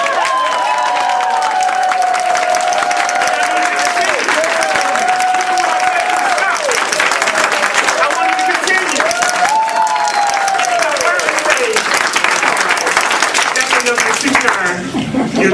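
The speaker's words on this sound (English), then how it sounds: "And I need raucous applause." Raucous audience applause with cheering at a speaker's introduction, dense clapping sustained throughout with voices and whoops rising over it.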